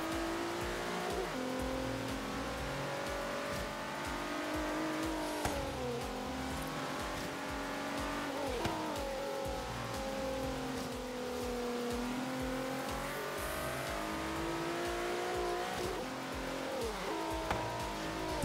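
A car in Forza Horizon 3 roars through a corner, its engine tone rising and falling steadily as it revs and shifts, loud and continuous with no talking.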